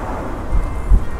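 Wind buffets the camera microphone outdoors by a stadium construction site, producing a loud low rumble with gusty thumps.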